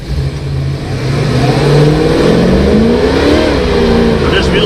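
A 1966 Ford Mustang hardtop with the 289 V8 accelerates hard with wheel spin, its engine note climbing loud and close over tyre noise for a few seconds.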